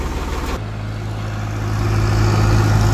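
A Farmtrac 60 tractor diesel engine catches from the starter's rapid chugging and settles into a loud, close, steady idle with a low rumbling throb.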